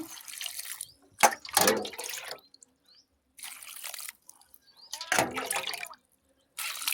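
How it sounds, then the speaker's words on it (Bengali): Chopped banana stem being rinsed in water in a home kitchen, with intermittent splashing and dripping bursts separated by short silences, close and moderately loud. "দু তিনবার করে ভালো করে ধুয়ে নেব"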